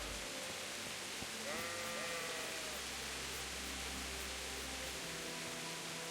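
A single sheep bleats once in a medieval-themed video game, a short wavering cry over a quiet background hiss, with a low hum continuing afterward.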